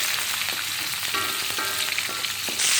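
Whole garlic and onion fry in a pan for a Malaysian crab curry, a steady close sizzle with a few soft clinks and stirring scrapes, no voices.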